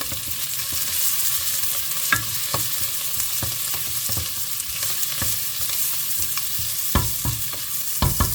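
Garlic and peppers sauté in melted fat in a pan, a steady close sizzle broken by sharp scraping clicks of a utensil stirring them, with no voices.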